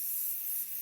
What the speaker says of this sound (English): I'm going to take my 505 spray and spray a generous layer over